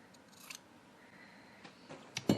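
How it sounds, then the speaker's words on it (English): Scissors snip through excess layers of fabric at a sewing project, a few quiet, brief cuts near the middle and a louder, closer snip at the very end, with no talk. "I'm going to cut this excess off here"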